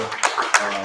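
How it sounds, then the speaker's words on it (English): A brief burst of applause at a community meetup in Oakland, California, with a few distinct claps standing out over a steady crowd wash. Voices can be heard mixed in. "can we give the team a round of applause here for holding us down?"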